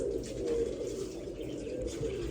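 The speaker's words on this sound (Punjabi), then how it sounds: "ਬਸ ਆਪਾਂ ਆਹੀ ਕਬੂਤਰ ਆਪਣੇ ਢਾਂਗੀ ਲਾਉਣ ਨੂੰ ਜਿਹੜੇ ਨਹੀਂ ਬਿੰਦੇ" Pigeons kept in a loft coo softly and continuously in low, rolling murmurs. The cooing is close and steady, with no talking over it.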